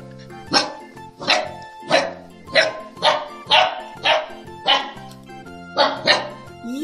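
A dog barks eight times in an even rhythm, each bark sharp and close, over a bouncy children's song backing.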